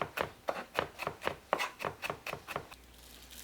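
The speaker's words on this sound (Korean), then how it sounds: "마늘을 다져서 준비합니다." Garlic cloves minced with a kitchen knife on a cutting board for a seasoned radish-greens side dish, about nine crisp, evenly paced chops close up, stopping near the end.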